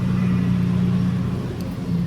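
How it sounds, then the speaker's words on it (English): A lawn mower engine running nearby in a yard, a steady close droning hum held evenly for two seconds without a break. "Sorry for the noise, friends. It's lawn mowing time."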